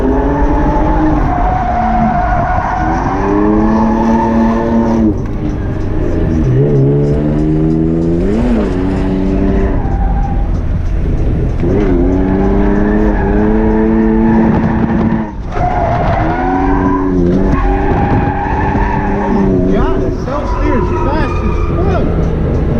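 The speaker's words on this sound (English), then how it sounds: "First corner I'm gonna hit it in second, then straighten out and try to hit the rest of the track in third." A drift car sliding through track corners at night, engine revving hard and rising and falling in pitch through the gears alongside long tire squeals, close and loud throughout with no talk.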